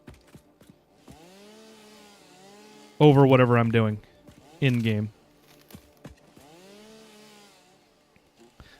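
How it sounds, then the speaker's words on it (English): A chainsaw from the factory-building video game Satisfactory whines steadily at a low level in the background, rising and falling in pitch, while someone speaks briefly over it. "I also turned down the chainsaw because there's basically never a time when I actually want to hear the chainsaw sound"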